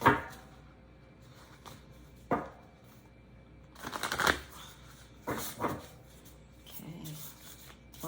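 Tarot cards are shuffled by hand in several separate bursts of riffling and slapping, close and fairly quiet, with pauses between and no talking.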